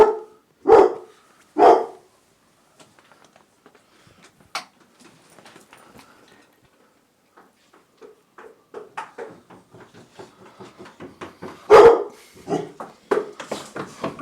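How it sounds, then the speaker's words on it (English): A dog gives a few loud, sharp barks close by, with long gaps filled by softer yips and whimpers, then another loud bark and a quick run of smaller yelps; no one speaks. "You don't need to bark, do you?"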